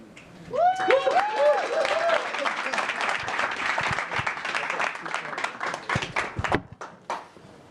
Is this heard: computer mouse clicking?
no